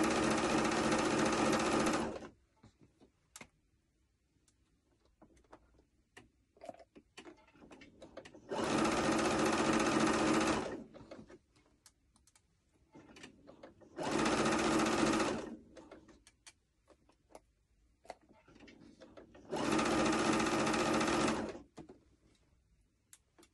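Sewing machine stitching a peplum top, running in four steady bursts of a few seconds each with quiet pauses between, close and clear, with no talk.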